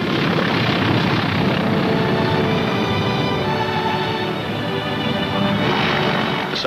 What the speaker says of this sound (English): The first plane landed just 24 hours after the Seabees had started to work.